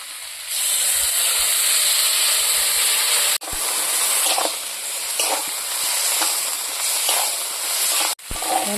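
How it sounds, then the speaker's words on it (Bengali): Water used to rinse ground spices is poured into a hot pan of frying cauliflower and potato, giving a loud continuous hiss and sizzle, briefly broken twice, with soft stirring clicks. "এখন আমি মশলা ধোয়া জলটা দিয়ে দেব।"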